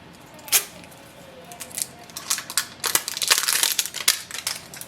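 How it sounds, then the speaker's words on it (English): The plastic seal is peeled off a Canon ink cartridge for a Pixma TR7620a printer, giving a few sharp crinkles and then a denser run of crackling tears, close and fairly quiet, with no talking. "So remove this seal, so you have to pull it up."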